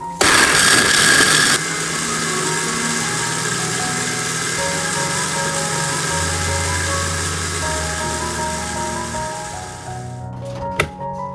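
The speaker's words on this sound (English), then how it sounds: "Add the corn kernels to a blender" A blender motor whirs loudly and steadily, blending corn kernels and water, droning continuously for several seconds, its pitch shifting slightly as it runs, then cuts off with a few clicks.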